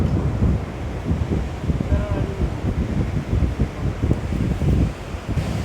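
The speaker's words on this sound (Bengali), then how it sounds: "তার সাথে সাথে দেখবো সমুদ্রের গর্জন।" Surf rolling onto Inani beach at Cox's Bazar, a steady broad roar of breaking waves mixed with gusty wind buffeting the microphone, continuous and fairly loud throughout.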